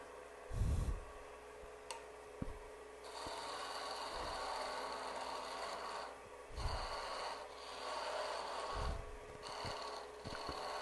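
A parting tool cuts wood spinning on a lathe, giving a steady, close rasping hiss with a faint motor hum beneath, broken by several dull thumps and scraping bursts along the way.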